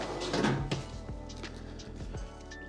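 Bottom drawer of a KitchenAid KSIS730PSS0 range sliding with a few dull thunks and a short rolling rattle, close and fairly quiet.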